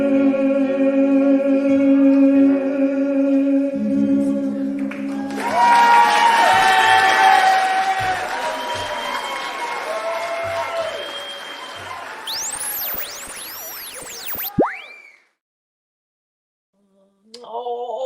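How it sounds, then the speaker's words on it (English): Guests clap and cheer at a lively party, a dense burst of applause with whoops and yodeling voices rising over earlier music, then fading to silence near the end. "That was all of us and all of our guests clapping and cheering and yodeling in the background"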